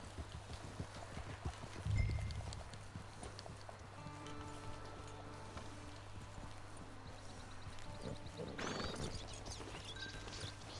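Steady clip-clop of horse hooves trotting in Red Dead Redemption 2, at a moderate distance, running continuously beneath a low constant hum, with a brighter burst of noise near the end.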